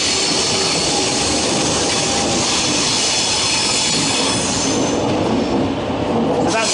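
A train rumbles loudly and close by in a station, a dense steady roar with faint wheel squeal that keeps going the whole time.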